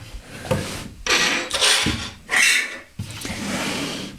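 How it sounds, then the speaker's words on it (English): A Makita router is unboxed, with close rustling, rubbing and sliding of cardboard and packing coming in several separate bursts, nobody talking. "So Makita unboxing time it is."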